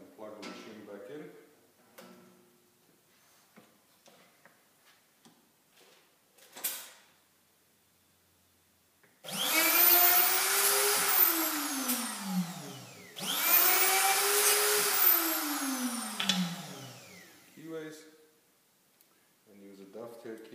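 A Hoffmann X25 dovetail routing machine whines up loudly twice, each run spinning up and then winding down, with quieter handling clatter and knocks before and after.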